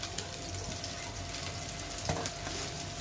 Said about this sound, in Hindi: अभी इसको मैं डीप फ्राई करूंगी